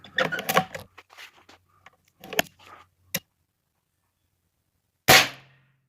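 A single sharp shot from an Airforce Texan SS .308 air rifle, a hard crack with a short tail, heard outdoors on a still day after a stretch of speech and a brief pause.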